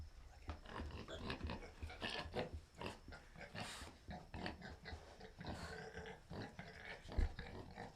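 Pig in a barn at night on a Halloween evening tour, giving a series of short grunts and snuffles close by, quiet and irregular, with rustling in between.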